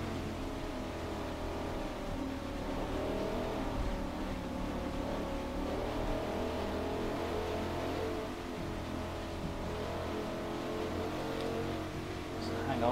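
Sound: Dodge Viper engine racing in video game Forza Motorsport

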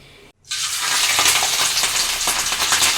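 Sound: fish frying in oil for fish pickle

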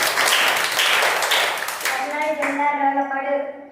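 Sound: clapping hands

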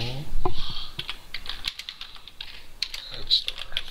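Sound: typing on a computer keyboard

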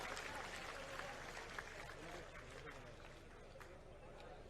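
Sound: audience applause welcoming the speaker

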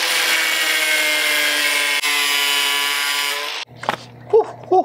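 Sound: grinding the tip of a homemade spear gaff

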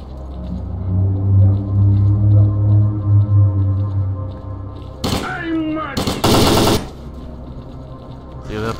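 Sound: gunfire in short bursts in the video game STALKER: Call of Pripyat

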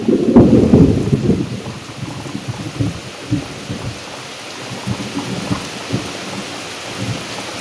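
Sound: heavy rain with thunder

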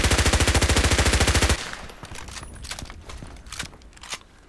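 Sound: MP5k gunfire in video game Contract Wars

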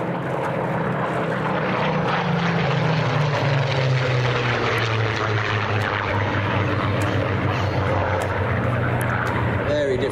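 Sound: Griffin-engined fighter aircraft passing at Sywell airshow

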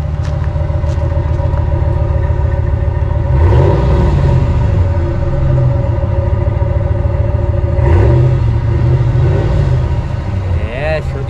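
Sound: RAM 1500 V8 Hemi gasoline engine revving

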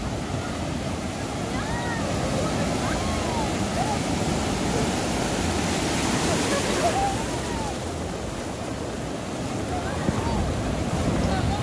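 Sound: sea waves on the beach at El Majahual, El Salvador

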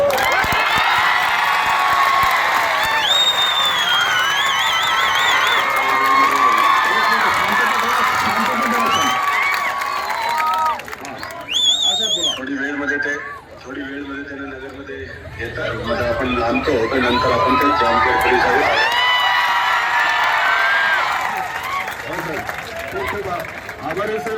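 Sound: students cheering after hearing of the arrest

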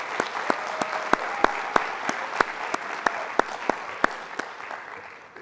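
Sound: round of applause at ceremony

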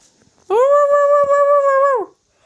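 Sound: dog barking in Minecraft video game

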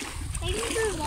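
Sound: splashing footsteps walking through lagoon water

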